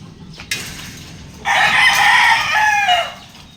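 A brooding mother hen on a farm with chickens gives a loud, close, drawn-out crowing call after a brief squawk, with soft clucking murmurs beneath and no speech.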